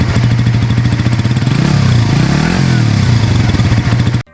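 A Suzuki GSX-S150 motorcycle engine runs steadily and loud throughout, its exhaust note rising and dipping briefly midway as the throttle is blipped, then cutting off abruptly at the end.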